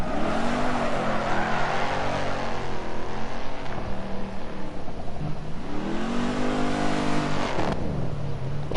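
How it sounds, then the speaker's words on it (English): A V8 muscle car in the rally game Dirt Rally 2 revs and burbles, its loud engine note rising and falling through gear changes and throttle swells, close and continuous with no talk over it. "The low-end burble of a V8"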